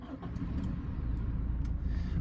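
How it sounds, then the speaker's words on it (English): A Toyota Hilux Rogue engine turns over and settles into a steady low running hum close by, fairly quiet, with a few faint clicks on top and no talking. "we'll turn the engine on"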